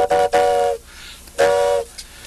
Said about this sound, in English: The old train